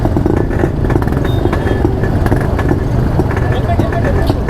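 Motorcycles ride in a political bike rally for International Democracy Day, a dense, loud engine roar steady throughout, with clatter and voices mixed in.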